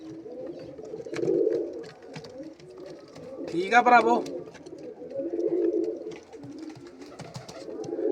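Pigeons coo in low repeated swells close by, several soft rounded calls rising and falling, while someone talks over them in the middle.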